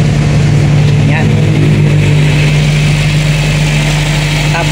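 A Toyota Corolla with a 2E engine idles steadily just after starting, a loud, close, even hum with a strong low tone held throughout, while someone speaks over it.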